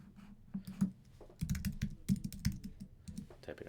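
Keystrokes on a computer keyboard come in quick irregular bursts as someone types a search for an author's name into a research database, close up and fairly quiet, with no speech over them.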